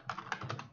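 A short burst of typing on a computer keyboard while writing Python code, a few soft, close keystrokes in quick succession lasting under a second.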